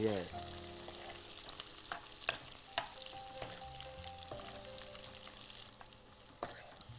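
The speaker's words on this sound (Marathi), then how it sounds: "कांदा चांगला लाल होईपर्यंत भाजून द्यायचा" Onion frying in a pan until browned, part of a Mangalorean chicken dish, sizzles steadily with a few sharp crackles and stirring clatters, close and moderately loud, with no talk over it.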